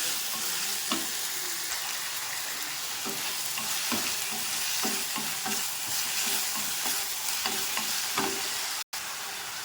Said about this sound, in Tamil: கட் பண்ணி வச்சுருக்க 2 தக்காளி 2 பச்சை மிளகாய் அதையும் போடுறேன். அதையும் நல்லா வதக்கலாம்.